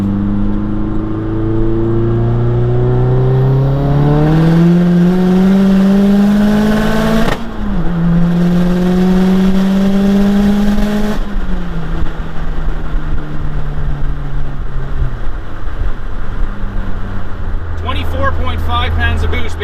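Big-turbo Mazdaspeed 3 pulls hard in third gear at about 25 psi of boost, its engine note climbing loud and steady, then breaking off at each shift and rising again before easing off near the end.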